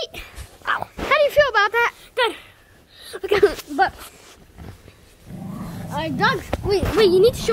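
A dog barks and growls close by in a home, short yelping barks and whines rising in bursts, mixed with excited voices talking over it.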